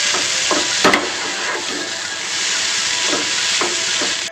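Egg hakka noodles with vegetables stir-fry in a hot pan, giving a loud, constant steamy hiss with intermittent scraping tosses of the utensil.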